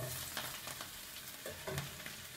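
Chopped onions and chillies sizzling in a hot pan, a steady loud crackling hiss with brief stirring scrapes, close up and without talk.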